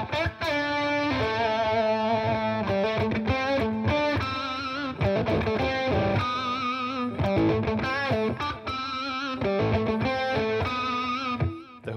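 Distorted electric guitar through a Fender Mustang GT 100 amp preset with effects, loud chugging riffs and ringing chords played continuously, with no talk.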